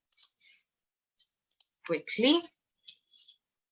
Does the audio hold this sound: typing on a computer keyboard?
yes